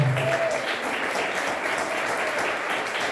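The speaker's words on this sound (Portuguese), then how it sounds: "Você pode celebrar a Deus com as suas palmas pela vida desse jovem." A church congregation claps together, a steady, even patter of many hands that carries on throughout without any speech over it.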